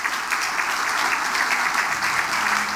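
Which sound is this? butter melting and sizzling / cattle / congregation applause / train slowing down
congregation applause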